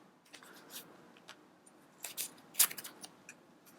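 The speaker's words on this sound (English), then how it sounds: "So I'm going to tape it together." Tape being pulled and pressed to join a large paper dot stencil for card making: quiet, scattered crinkles, ticks and short sharp tearing snaps, close up in a hushed room.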